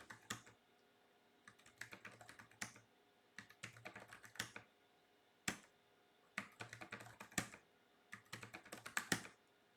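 Typing on a computer keyboard while installing Debian Linux on a Baikal-M mini-ITX system, heard as quiet, close bursts of rapid key clicks separated by short pauses, with no talking.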